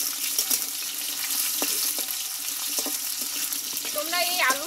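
Cut, washed potatoes frying in oil in a pan, a steady bright sizzle with occasional stirring clicks and a faint whistling tone near the end; no talking.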